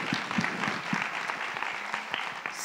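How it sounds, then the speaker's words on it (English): An audience applauds after a call to honor P&G for promoting gender and racial equality behind the camera, a steady patter of clapping with a few sharper nearby claps over about three seconds. "Let's give them a round of applause for that."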